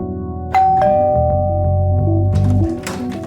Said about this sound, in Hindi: अब मेरे 2 ऑफिसर डोरबेल बजाएंगे।